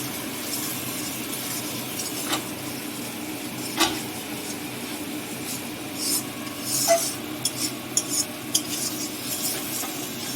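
Spice paste with tomato for a Bengali prawn and potato curry is stirred and fried in a pan, with repeated scraping strokes and clinks of a spoon against metal over a low, steady sizzle, close and without talk.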